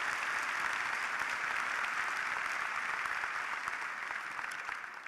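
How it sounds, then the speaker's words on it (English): Sustained crowd applause at a university commencement ceremony, a dense, constant wash of clapping that tapers slightly toward the end. "please stand and we'll applaud you. Or we'll applaud anyway."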